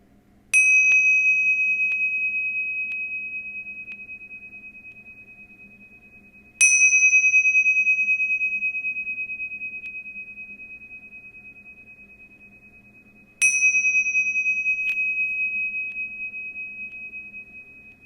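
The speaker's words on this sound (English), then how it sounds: "I'm going to ring the bells 3 times" A meditation bell rings three times, each a clear bright strike with a long ringing tone that slowly fades before the next, spaced about six seconds apart in a quiet room.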